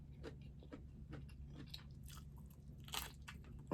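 Crunchy broccoli dressed in garlic butter sauce being bitten and chewed close to the mic during a seafood mukbang, a run of crisp, moist crunches that gets louder toward the end, with no talking.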